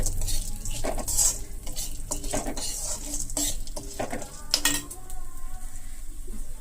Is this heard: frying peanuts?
yes